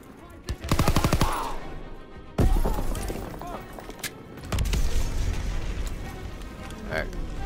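A grenade blast goes off amid gunfire in Call of Duty: WWII, with a rapid burst of shots, a heavy boom and further rumbling blasts, loud and close, as soldiers shout over the battle.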